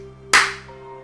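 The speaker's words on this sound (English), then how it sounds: "Clapping loud." A single sharp, loud clap-like burst stands alone over a steady background tone, decaying quickly with no talk.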